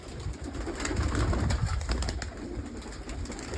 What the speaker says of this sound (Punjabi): ਕਬੂਤਰ ਦੇਖ ਲਈ ਕਿਵੇਂ ਸਾਰੇ